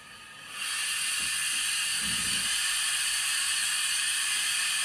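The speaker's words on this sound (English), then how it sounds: "Cylinder clocks, that's what they were called earlier." A steady, loud hiss of steam from a Hornby Flying Scotsman model train's cylinder cocks sound effect starts abruptly and continues unbroken, with faint low chuffing beneath.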